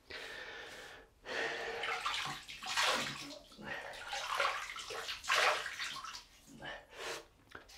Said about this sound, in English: just wet the face